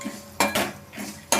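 A utensil scrapes and clinks against a hot kadai while a spice tempering is stirred for mango pulihora, giving four sharp metallic bursts with quieter scraping between them, close and loud.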